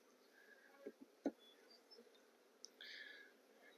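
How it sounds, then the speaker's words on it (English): Honey bees buzz faintly around an open hive that is troubled by hive beetles and wax moths, with scattered short buzzes and a few brief knocks against a quiet background. "Starting to get more bees bumping me."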